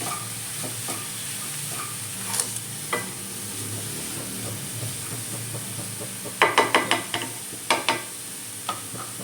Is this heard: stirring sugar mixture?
yes